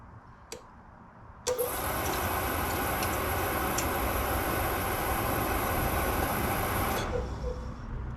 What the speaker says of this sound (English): just these two are going to the motor, and we're just going to see if it turns